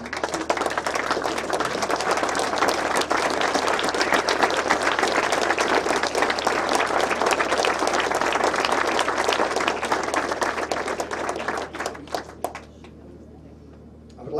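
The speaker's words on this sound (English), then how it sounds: "take the applause" An audience at a clan history event in a hall breaks into loud, sustained applause that carries on steadily for several seconds before fading out quickly.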